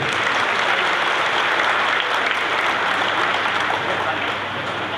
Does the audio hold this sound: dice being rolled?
no